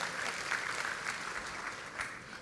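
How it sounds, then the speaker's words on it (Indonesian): Church congregation applauding during a sermon, a steady, dense wash of clapping from a large crowd indoors, held at an even level throughout. "Beri tepuk tangan yang meriah buat Tuhan"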